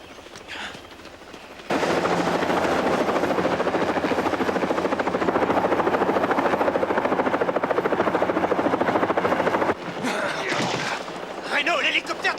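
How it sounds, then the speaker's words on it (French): A police helicopter thunders overhead with a loud, steady rotor chop that starts abruptly, holds for several seconds and then drops away, with voices heard before and after it. "l'hélicoptère de la police!"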